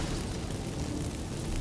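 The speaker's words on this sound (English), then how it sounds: "Get ready for some magic fireworks." Magic incense fireworks erupt in The Witcher 3, a loud, dense, roaring crackle and rumble that stays steady and full throughout, with no voices.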